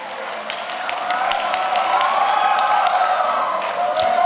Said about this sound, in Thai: เอาเสียงปรบมือครับเสียงปรบมือไปไหนมาแล้วเสียงปรบมือนะครับ